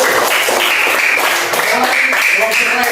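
A classroom of students claps for a presenting student group, giving a dense, steady burst of applause mixed with voices talking over it throughout.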